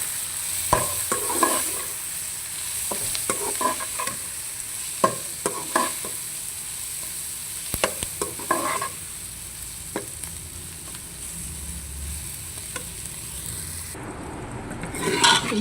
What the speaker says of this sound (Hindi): चिकन ना भी सही तरह से नहीं भुना गया, अभी भुनाई हो रहा है